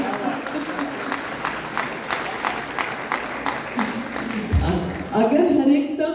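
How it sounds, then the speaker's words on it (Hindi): Applause from a mushaira poetry audience at an international Sir Syed Day gathering, a steady dense clatter of many hands lasting several seconds, with a louder surge and crowd voices near the end. "तालियां बजाएं, चुटकियां ना बजाएं।"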